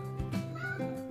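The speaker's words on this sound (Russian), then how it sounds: "Мяу." A cat meows in a home kitchen, two short rising-and-falling calls close to the microphone, over a steady background hum.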